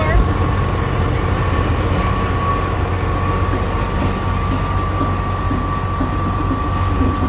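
Open-air tram car at Labadee, Haiti, rolling along with a steady low engine rumble and hum, loud and continuous throughout, with faint background voices.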